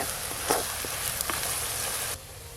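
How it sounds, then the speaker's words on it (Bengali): Mutton and potatoes fry in a pan with a bright, steady sizzle, close and fairly loud, with a few stirring scrapes before the sizzle suddenly drops quieter near the end. "সব কিছু ভালো করে ভাজা ভাজা হয়ে গেছে"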